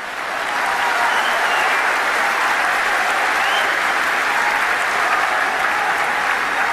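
A lecture audience breaks into loud, sustained applause, many people clapping steadily together in a large hall, with no one speaking over it.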